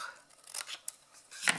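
Scissors snip through cardboard box flaps, a few short quiet crisp cuts, close by, with soft handling noise between them.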